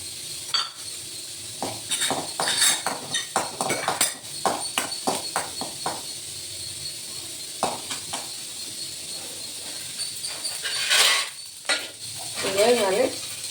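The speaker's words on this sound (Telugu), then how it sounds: "కొంచెం ఆయిల్ వేసుకొని ఆవాలు, జీలకర్ర, ఎండుమిర్చి అండి." Mustard seeds, cumin and dried red chillies sizzle in a small amount of hot oil, with metal stirring and utensil clinks scattered over a steady crackling hiss and a brief louder burst near the end.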